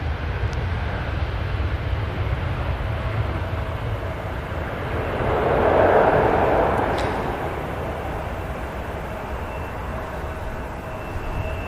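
Jet2 Boeing 737 at Manchester Airport runs its derated jet engines in a steady distant roar that swells to a broad whooshing peak midway and then eases back to a constant rumble.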